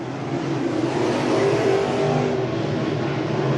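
Pro crate race cars roar around a banked oval track, a loud continuous engine drone with several cars bunched close together and no break in the sound.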